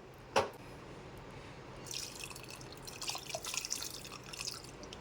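Water is poured into cooked, mashed dal in a pot, faint and close, opening with a single drip and then a soft, uneven splashing trickle.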